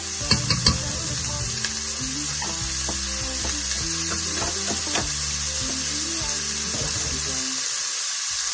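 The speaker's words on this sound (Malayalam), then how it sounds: "ഈ ടൈമില് നമുക്ക് ആവശ്യത്തിനുള്ള മഞ്ഞൾപ്പൊടി ഇട്ട് കൊടുക്കാവേ." Turmeric being stirred into cabbage thoran as it sizzles in a pan, a bright steady hiss with spoon clatter that is busiest at first, then settles into an even fry up close.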